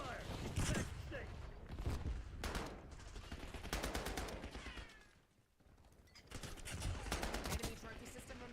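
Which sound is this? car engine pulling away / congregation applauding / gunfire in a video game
gunfire in a video game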